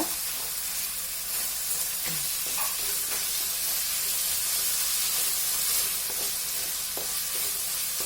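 Tomatoes sizzle and fry in a pan for chicken masala, with a steady loud hiss and occasional scraping stirs throughout, no voices.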